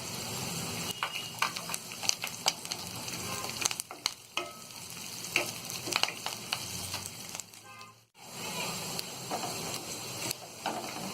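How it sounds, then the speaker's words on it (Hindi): Peanuts fry with onion in a pan for rava upma, sizzling steadily under repeated scraping and clattering stirs, with a brief drop in level partway through and then a return to the sizzle, close up and without talk. "अब ये जो मूंगफली है इसे भी हम डाल के फ्राई कर लेंगे"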